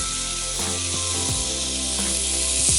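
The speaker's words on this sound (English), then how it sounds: "You'll hear it sizzling away straight away." Thin-sliced pork for Vietnamese bun thit nuong sizzles on a hot grill, a loud, steady hiss close up with a low hum underneath.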